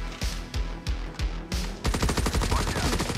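Gunfire from COD Mobile, starting with several single shots spaced apart and then a rapid automatic burst of fire, loud and close with almost no talking.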